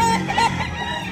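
A green-leg rooster at a Tabunok market gives a short cluck with a brief rising call, close and moderately loud over busy market noise.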